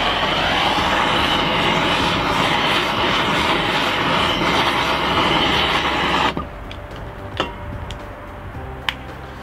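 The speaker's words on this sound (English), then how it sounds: "Some kind of propane burner or mat burner." A propane burner roars steadily while lighting charcoal briquettes, loud and broadband, then cuts off abruptly, leaving a quiet background with a few sharp clicks and knocks.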